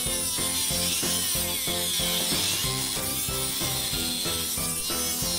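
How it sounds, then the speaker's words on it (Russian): A hand file is pushed back and forth across metal, trimming excess from a part of a BG-5158 benchtop drill press. The rasping strokes are loud and close and come at a steady rhythm of about two per second. "Весь лишний металл спиливаю."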